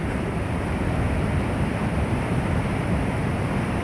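Big Atlantic Ocean waves break on the shore of Portugal, a steady loud roar of surf with wind buffeting the microphone, close and continuous with no voices.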